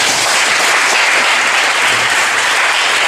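A church congregation applauding during a service, dense steady clapping filling the room without a break for a few seconds.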